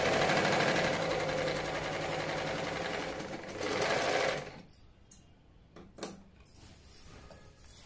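A sewing machine stitches silk fabric for a lehenga with a loud, steady whirring rattle close by, then halts, followed by quieter clicks and handling of cloth.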